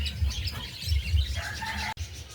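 Racing pigeons in a loft, soft low cooing pulses mixed with light chirps and rustling, fairly close, with no talking.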